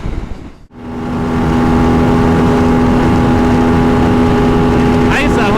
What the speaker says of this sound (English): While driving, the DesertX spoils the driver with a beguiling intake sound.